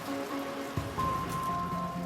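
Steady rain falling outside a medieval charnel house in London, a constant even hiss with a faint tonal hum underneath and one soft knock, no voices.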